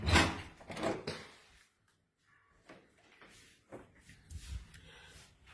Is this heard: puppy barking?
no